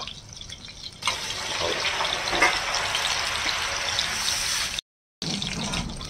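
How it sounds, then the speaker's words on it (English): A pork patty fries in a pan over medium-high heat, giving a steady, bright sizzle that swells after a quieter start, then cuts out briefly before resuming. "So I fry the first side for about 2 minutes, I think."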